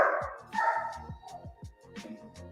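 A dog barks repeatedly in a quick, steady series of sharp woofs, fairly distant and muffled under background noise.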